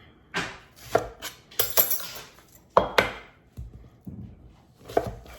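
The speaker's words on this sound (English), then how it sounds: "Only going to use half of this little guy. And we're going to mince it." A knife minces half an onion on a cutting board, a quick series of close, crisp chopping taps in uneven bursts with short pauses and no talking.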